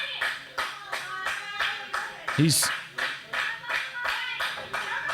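Wrestling-event crowd clapping in a steady rhythmic beat, about two claps per second, loud and close, with a brief shout and a commentator's voice heard over it.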